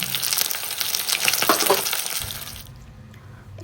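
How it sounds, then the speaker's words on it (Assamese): Chopped ginger, garlic and green chili sizzle in leftover fish-frying oil in a pan on a gas stove, a bright crackling hiss with stirring scrapes that quickly settles into a softer, low frying bubble. "তাতে মাছ ভাজি থোৱা তেলখিনি দিলোঁ, তাতে দিলোঁ মই আদা, নহৰু, কেঁচা জলকীয়া যিখিনি কাটি থৈছিলোঁ সেইখিনি অকণমান ৰঙচুৱা হোৱালৈকে মই ভাজিলোঁ"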